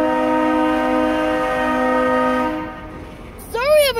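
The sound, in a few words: train horn blaring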